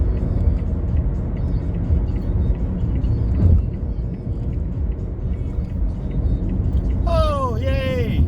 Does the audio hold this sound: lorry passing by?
yes